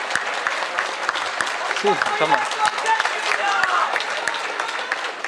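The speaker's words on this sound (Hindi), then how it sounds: "एक बार सभी अपनी सीटों पर खड़े हो जाएं और जोरदार तालियों से पंकज त्रिपाठी और अक्षत गुप्ते के लिए।" Sustained applause from a standing audience at a literature festival fills the whole stretch, steady and fairly loud, with a brief voice or cheer rising through it.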